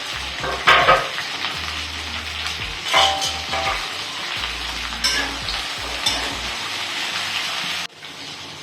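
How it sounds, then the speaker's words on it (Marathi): Okra sizzles loudly in a little oil in a pan and is stirred now and then with scraping spoon strokes, a steady close frying hiss with no one talking. "तर इथे मी दोन चमचे तेल टाकलेलं आहे त्याच्यामध्ये आपल्याला ही जी भेंडी आहे ही थोडीशी तळून घ्यायची"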